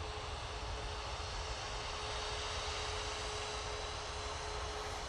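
KLM Boeing 737 airliner coming in to land at Manchester Airport from Amsterdam, a steady broadband jet roar with a faint hum, distant and continuous without any talk.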